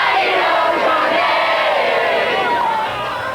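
A large crowd packed along Beacon Street in Boston roars and cheers on a big night in 1993, producing a loud, dense, unbroken wall of shouting voices that holds steady throughout.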